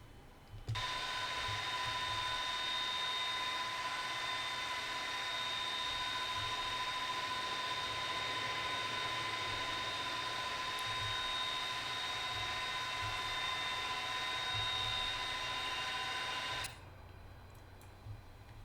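A Boeing 747-200 cargo jet engine spinning up during start in the X-Plane 12 flight simulator: a steady, loud whine with high sustained tones holds for about sixteen seconds, then cuts off abruptly into near silence.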